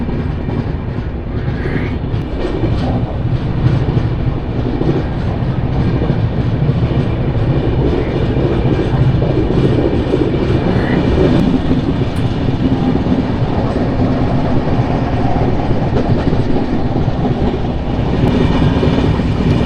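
The Tirumala Express, train 18522 on the Guntakal to Visakhapatnam run, rolls on after leaving Samalkot Junction. Its steady, loud rumble and rattle of wheels and carriages is heard from on board without pause, and no one speaks.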